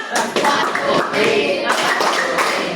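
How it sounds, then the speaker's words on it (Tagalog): A class in a Filipino lesson applauds a student, with a short, steady burst of many hands clapping close by that pauses briefly before more clapping follows. "Bigyan siya ng isang magaling na palakpak."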